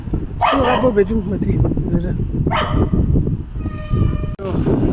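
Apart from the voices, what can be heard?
dog barking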